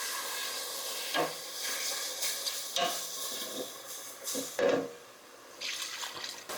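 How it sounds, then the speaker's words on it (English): Milk being whisked into a flour mixture, close wet stirring and scraping strokes that come in irregular bursts, with a few soft sloshes, fairly quiet. "Whisk that into the flour mixture."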